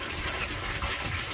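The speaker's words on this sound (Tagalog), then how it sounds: "lakas ng bukal ng tubig na lumalabas" Natural spring water gushing out of the ground in Barangay Bacong: a steady, close, hissing rush of flowing water with no voices.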